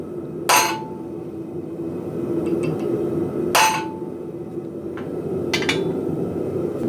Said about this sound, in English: now I'm going to go in with a center punch and deepen that hole a little bit